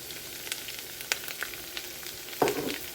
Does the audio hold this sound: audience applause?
no